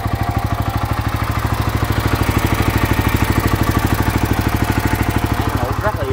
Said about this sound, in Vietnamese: Tiếng máy nổ im ru ha.